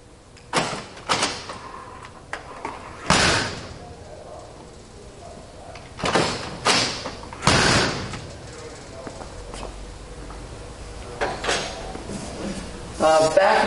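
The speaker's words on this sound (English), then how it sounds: "So you can hit this button that unlocks the doors and you can open them." Doors of a 1956 Ford F-100 pickup truck unlocking and swinging open, heard as a handful of sharp, close clunks and latch clicks spaced irregularly over a quiet background.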